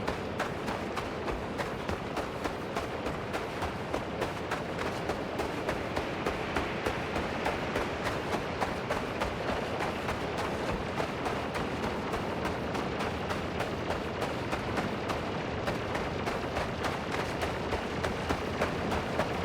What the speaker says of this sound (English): I can hear a turret blasting at something.